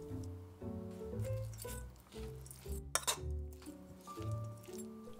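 Clinks and soft wet squishes of chopped zha cai being mixed in a bowl with chicken stock powder, garlic paste and sesame oil, with repeated light utensil taps against the bowl at close range and no talk.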